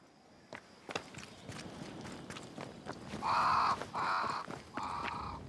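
Crow caws from the game Banishers: Ghosts of New Eden, three loud harsh calls in a row over footsteps and ambient game noise.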